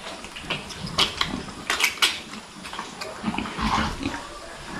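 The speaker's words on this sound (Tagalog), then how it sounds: "Yung barako natin, oh." A boar, a male breeding pig, grunts and snorts in a pen, giving a run of close, rough, uneven grunts with some clattering in the background.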